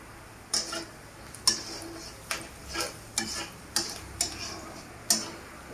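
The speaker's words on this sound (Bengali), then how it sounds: "পেঁয়াজটাকে একটু ভাজবো লাল লাল হওয়া পর্যন্ত, আর এইভাবে পেঁয়াজটাকে কন্টিনিউ নেড়ে যেতে হবে" Chopped onion frying in a pan while being stirred, with a regular series of distinct scraping strokes about every second over a faint background sizzle, close and fairly quiet, no voices.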